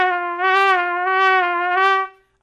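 A wind instrument holds a steady tone that swells softly three times, as the player shapes the notes with breath alone and no tongue, so the notes blend into one another rather than starting crisply. Close and clear, it ends quietly.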